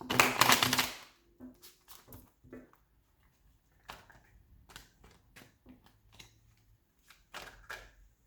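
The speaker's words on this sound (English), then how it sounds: "do one last quick shuffle and then we'll be ready" A burst of rapid tarot card riffling, then a series of soft, separate taps and flicks as cards are handled, with a second shorter riffle near the end.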